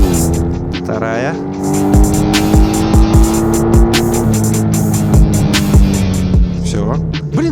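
A Ural motorcycle accelerates hard on a drag run, its engine note rising steadily through the gears over a loud sustained roar, with brief shifts and voices talking over the top.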